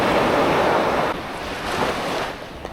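Ocean surf washes onto a beach at Quy Nhon, a loud steady roar of breaking waves with gusty wind buffeting the microphone, easing slightly partway through.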